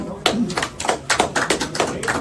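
An audience claps in thanks at an informal gathering, a short round of scattered hand claps with irregular sharp taps, close and moderately loud, coming just after someone speaks.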